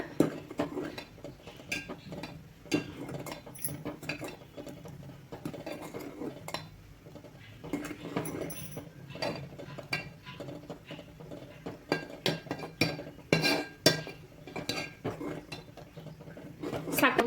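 Metal spoon clinks and scrapes against a pot of coconut milk payasam being stirred after sugar goes in, a steady run of light taps and clatter with a voice talking over it.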